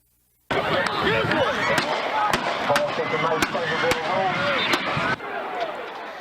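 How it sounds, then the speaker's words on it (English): Several gunshots from the stands at a high school football game ring out as sharp cracks at uneven intervals over a loud, noisy crowd roar, the pops standing out as brief bangs above the commotion. "In new video, you can hear the gunshots."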